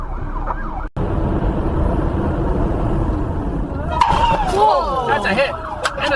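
An ambulance siren wails at a roadside crash scene in the USA, rising and falling over steady traffic and engine rumble after a brief thud, growing louder and clearer in the latter half.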